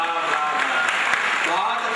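Audience applause at a live Hindi satirical poetry show in Rajasthan, a steady wash of clapping through the whole short stretch, with a voice speaking over it.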